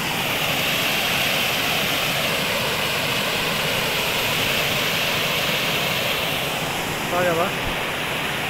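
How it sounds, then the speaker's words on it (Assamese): Water rushes steadily toward a river near the Kopili bridge in Assam, a loud, continuous broadband roar heard close by throughout, with someone briefly speaking over it near the end. "এই পানীটো চিধা গৈছে নদীত"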